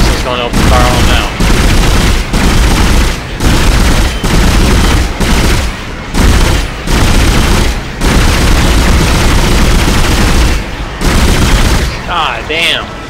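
Heavy gunfire in the sci-fi horror game Dead Space, a dense, loud stretch of sustained rapid shooting and blasts broken by brief pauses, with a voice talking over parts of it.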